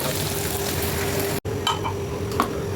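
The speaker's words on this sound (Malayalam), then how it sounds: "എണ്ണ നന്നായി ചൂടാകുമ്പോൾ നമുക്ക് സബോള ഇടാം." Sliced onions fry in hot oil in a pan, a steady sizzle with a few stirring clinks and scrapes near the end, no talking.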